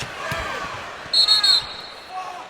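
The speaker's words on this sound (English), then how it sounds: "Ball bouncing to Charlie Bell." Basketball bouncing on the court during an NBA game between the Golden State Warriors and Milwaukee Bucks, three quick dribbles heard over crowd noise and a squeaking sneaker.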